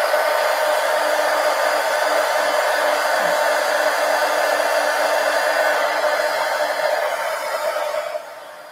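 A hair dryer blows steadily on a mixed media collage pumpkin, a constant loud whooshing hum that holds level for several seconds before dropping off near the end.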